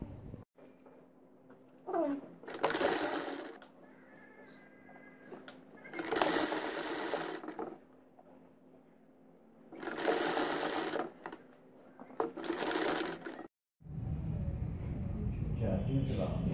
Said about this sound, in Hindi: चलिए अब हम इसको सिलाई लगाकर कंप्लीट कर लेंगे।